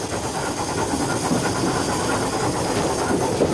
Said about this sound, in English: I'm listening to the beat of the engine. I'm listening to the rail joints for my speed.